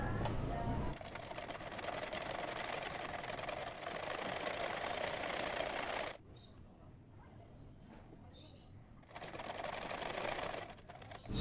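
A sewing machine stitches the seam of a kameez in steady close bursts of rapid mechanical whirring, stopping for a few seconds partway before starting up again and running on.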